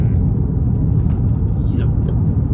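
Traffic on a big four-lane road in Portland, with trucks passing: a steady, loud low rumble of vehicles close by, continuous throughout.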